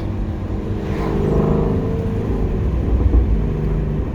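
Engine of a 2021 Toyota Supra A91 or 2018 Shelby GT350 sports car on a drive, a loud steady rumbling drone that swells slightly as it revs, heard alone from inside the cabin.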